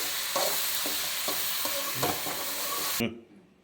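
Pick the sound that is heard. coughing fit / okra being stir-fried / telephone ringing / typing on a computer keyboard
okra being stir-fried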